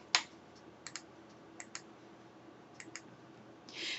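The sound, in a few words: typing an account number on a computer keyboard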